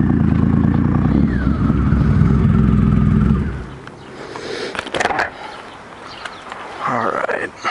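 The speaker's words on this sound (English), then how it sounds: "the weird thing about this bike is a much lower rev range" A motorcycle engine, a bike that has sat unused for a while and now runs on fresh fuel, idles loud and close with a deep rumble for about four seconds. It then drops away, leaving clattery handling noises and a faint rev near the end.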